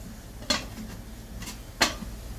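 A metal lid set onto a steaming pot of sweet dough balls gives two sharp clinks about a second apart, close and clear over a low kitchen hum.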